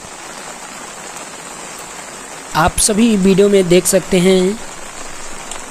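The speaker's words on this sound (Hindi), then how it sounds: "तेज मूसलाधार बारिश हो रही है और बारिश की आवाज़ भी आप सभी को सुनाई दे रहा" Heavy torrential rain pours down in cold weather, a dense, steady hiss throughout, while someone speaks in Hindi for a couple of seconds in the middle.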